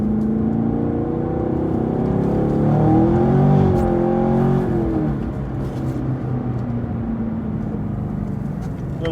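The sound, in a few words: car accelerating out of a corner in the rain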